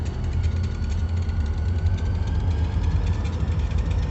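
A Kiamichi Railroad diesel locomotive engine rumbles steadily nearby, a continuous loud low idle drone with no talking.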